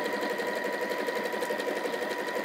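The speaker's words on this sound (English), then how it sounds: "Just remember to move your clips or your pins as you're sewing along so they're not coming into contact with your machine foot." Domestic sewing machine running steadily while stitching binding onto a fabric caddy, a continuous close, loud mechanical whir with a fast regular needle rhythm throughout.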